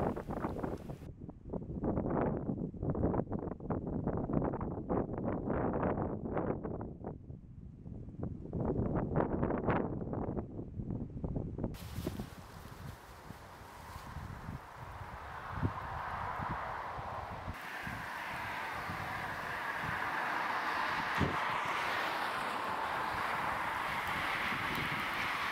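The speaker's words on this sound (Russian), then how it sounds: "Осенний день, порывистый ветер" Gusty autumn wind roars and buffets the microphone in surges, dropping briefly between gusts, then settles into a steadier rushing blow.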